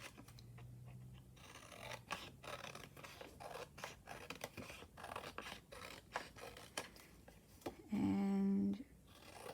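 Scissors snip repeatedly through a paper tag cut from masterboard, with a steady run of close, crisp cuts and rustling paper, ending in a louder burst of handling noise.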